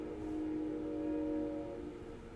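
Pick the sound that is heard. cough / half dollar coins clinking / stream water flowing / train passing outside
train passing outside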